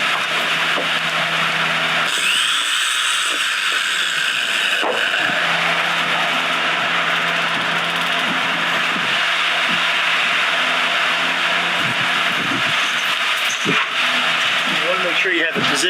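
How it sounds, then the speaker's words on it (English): A regular jigsaw cutting through a plywood floor inside a Tracker Express boat hull, a steady buzzing, rasping cut running almost continuously with brief pauses and shifts in pitch. "For this, we're just going to use a regular jigsaw."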